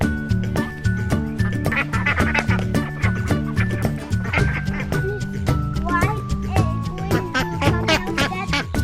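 A dense, loud chorus of ducklings quacking continuously up close, many calls overlapping in a busy, rhythmic jumble.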